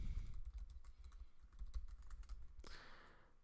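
Typing on a computer keyboard while entering a CSS font-face statement, a steady run of soft close key clicks with no talk, briefly broken by one sharper swipe near the end.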